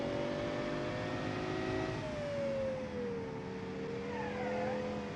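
Engine of a 1960 sports car in a racing video game, revving with its pitch swaying and sliding down as the wheels spin, steady and close with no talk.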